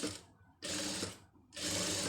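A sewing machine stitches a blouse, its motor running in two loud, steady bursts separated by brief pauses.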